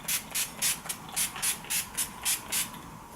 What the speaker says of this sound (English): take my NYX matte finish setting spray